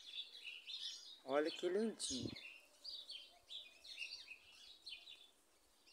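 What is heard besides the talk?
birds singing in a jabuticaba tree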